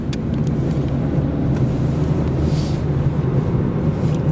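Steady low engine drone of a car cruising in second gear on a cold-weather road trip, a continuous near rumble with road noise and no talk.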